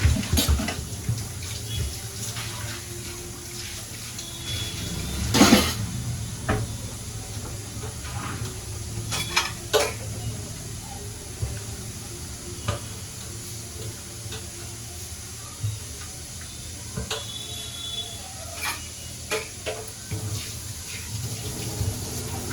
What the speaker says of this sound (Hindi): यहाँ पर मैं धो देती हूँ अपना सिंक, अच्छे तरीके से साफ कर देती हूँ।